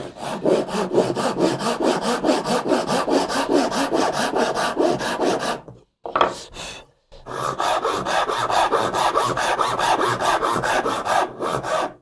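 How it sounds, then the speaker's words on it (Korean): A hand saw rasps back and forth through wood in fast, steady strokes while cutting a furniture joint, pausing briefly midway before resuming its rhythmic cutting. "이렇게 해서 톱질을 해 보도록 하겠습니다"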